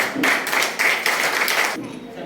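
Clapping at a book launch for a song collection released on a birthday, a dense burst of applause from a crowd lasting a couple of seconds with voices mixed in.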